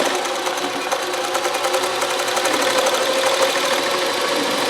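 A Consew CN2053R-1A industrial sewing machine stitching free motion embroidery, a close, continuous rapid mechanical rattle with a fast steady needle rhythm that holds throughout, without talk.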